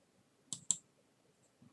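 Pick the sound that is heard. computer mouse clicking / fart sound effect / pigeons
computer mouse clicking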